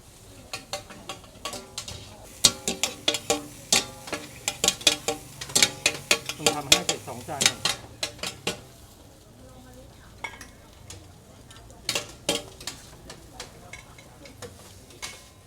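Garlic and bean sprouts tossed in a wok at a Bangkok morning-market street stall, with rhythmic metal scraping and clanking of a utensil against the pan over a soft sizzle, busiest in the middle and thinning toward the end, no talk.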